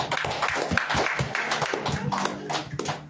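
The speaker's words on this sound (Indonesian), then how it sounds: "tepuk tangan buat Tuhan Yesus" A church congregation claps for Jesus during an Indonesian worship service, a mix of scattered and rhythmic hand claps with some voices underneath, lively and close.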